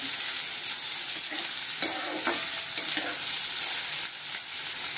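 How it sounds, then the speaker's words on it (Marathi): Pieces of mutton with plenty of onion fry in a pan for a village-style rakti, a continuous close sizzle broken by soft scraping and clicks of stirring. "मिक्स करून घेऊया, चांगला भाजून घेऊया आपण।"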